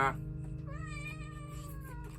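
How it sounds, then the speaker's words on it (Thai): A single drawn-out cat meow, close and fairly faint, rising and then trailing off over a low steady hum. "แมวร้องๆเลย"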